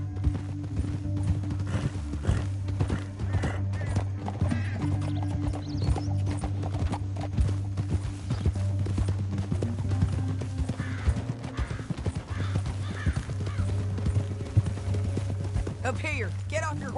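Horse hooves in Red Dead Redemption 2 clop steadily in a galloping rhythm under a constant low drone, with a whinny near the end.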